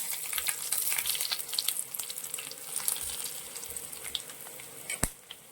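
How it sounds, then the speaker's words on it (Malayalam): Mustard seeds and dried red chillies sizzling in hot oil, a steady close crackling fry with scattered pops and one sharp louder crack near the end, with no talking. "എണ്ണ ചൂടായി, നമുക്ക് കടുക് ഇട്ട് കൊടുക്കാം. അതിലേക്ക് നമ്മൾ ചുവന്ന മുളക് ഇടുവാണ്."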